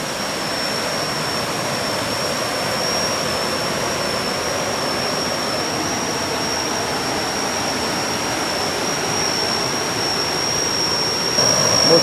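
A waterfall at Si Phan Don in southern Laos roars as a loud, continuous broadband rush that holds steady throughout, with no voices over it.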